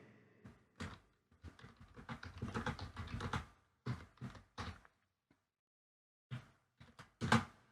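Bursts of computer keyboard typing at close range, short clusters of keystrokes separated by pauses, quiet with no talk.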